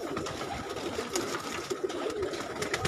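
Pigeons cooing together in a rooftop loft in Karachi, a dense, continuous murmur of overlapping calls, close and fairly steady, with no talk.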